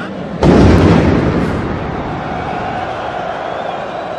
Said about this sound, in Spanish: 3 explosiones registradas junto al Estadio de Francia